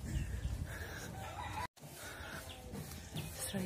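Chickens and roosters in a rural province yard in the morning, clucking and crowing over a busy outdoor background with brief broken calls, no talk.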